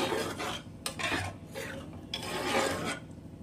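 Fish curry gravy being stirred in a pan, with rough scraping and rasping strokes of a utensil against the metal coming in several uneven bursts, close and moderately loud.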